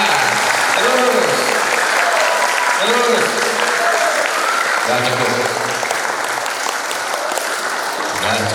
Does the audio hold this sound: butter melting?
no